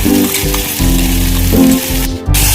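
Ginger garlic paste frying in a pan for paneer masala, a loud, close, steady sizzle with faint stirring scrapes.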